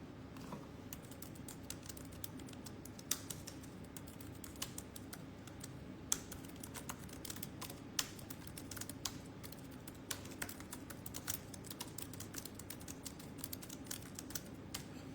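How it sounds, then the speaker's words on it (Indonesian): Someone types on a computer keyboard in a quiet room: a steady stream of quick, light key clicks with occasional sharper taps, fairly faint and close, with no talking. "kok ngetik"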